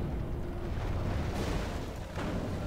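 Massed army fire in The Third Age, a strategy game, rolling out as a dense, continuous barrage of booming bursts with a couple of stronger swells partway through, steady and fairly loud throughout.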